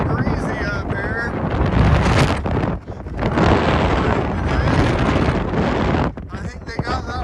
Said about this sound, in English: Needless to say, it's a tad bit breezy up here.